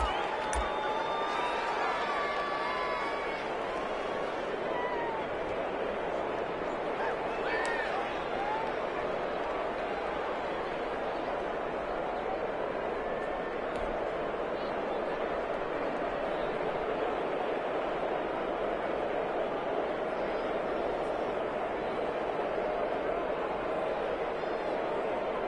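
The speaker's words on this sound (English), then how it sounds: "Listen to this crowd now." Steady stadium crowd roar in an American football video game, a continuous dense babble and cheer holding level throughout with a brief whistle-like tone early on.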